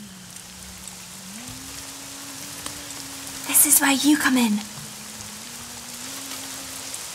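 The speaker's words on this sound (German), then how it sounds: "Hier regnet es auch durch." Rain dripping through a building in the video game Layers of Fear 2, a soft continuous patter under a low hum, briefly overlapped by a spoken line.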